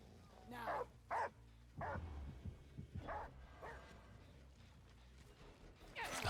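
A hound barks in the Dead by Daylight game, several sharp, fairly faint bursts spaced out across the stretch over a low rumbling background.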